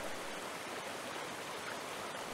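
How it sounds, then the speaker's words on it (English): Steady rushing water pours continuously, a dense, even roar of falling water with no voices. "He turned toward a sound of water falling. Then he saw a waterfall."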